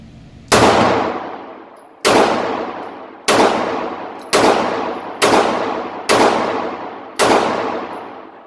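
Seven sharp, loud gunshots from a Ruger LC9 pistol fired at an outdoor range, evenly spaced about a second apart, each with a decaying echo tail; no talking.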